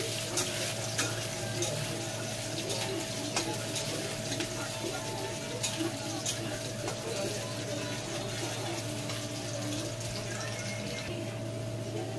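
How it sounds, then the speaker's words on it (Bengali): Chopped onions frying in oil in a pan for khichuri, after bay leaves and dried red chillies, give a steady close sizzle with scattered crackles, and a constant low hum runs underneath. "এখানে রয়েছে পেঁয়াজ কুচি করে রেখেছি, চলো পেঁয়াজটা দিয়ে ভাজা ভাজা করে নিই"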